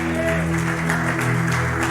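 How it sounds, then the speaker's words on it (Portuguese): A church congregation applauds together in a steady, continuous wash of clapping that fills the space, with a few voices mixed in beneath it. "Você pode aplaudir Jesus."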